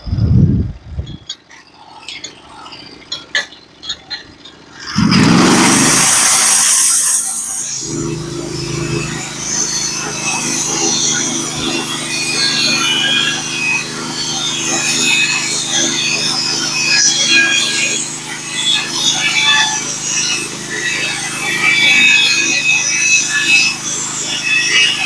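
A Norwood HD36v2 bandsaw mill cuts a flitch from a pitch pine log: a brief loud burst, then a steady, sustained engine-driven saw drone with wood-cutting noise runs for nearly twenty seconds, fairly close.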